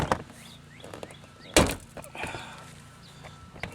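Car door trim panel on a Pontiac Aztek being pried off, a series of sharp plastic clips popping and cracking, with one loud snap in the middle amid lighter clicks and handling noises close by.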